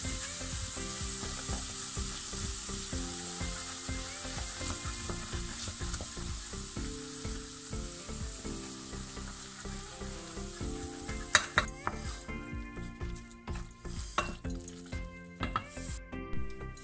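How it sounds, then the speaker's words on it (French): Garlic and herb cheese melting in a hot pan over lowered heat, a steady close sizzle and frying hiss with stirring scrapes and a few sharp clinks of utensil on pan toward the end, no talking. "je fais fondre tout ça en baissant le feu bien sûr"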